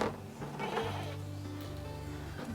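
A goat bleats nearby on a farm, a drawn-out wavering cry over a low buzzing background.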